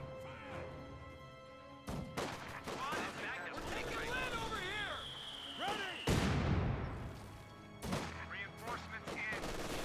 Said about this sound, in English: Most of the mortar barrage was largely hitting behind the MG42